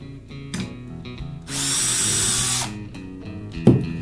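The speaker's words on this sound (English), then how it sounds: "Use a small drill, slightly smaller than the panel pin, and drill a hole in the wood to stop it from splitting." Small drill bores a pilot hole in wood for a panel pin during a conservatory refurbishment, a steady whining burst lasting about a second between quieter handling noises.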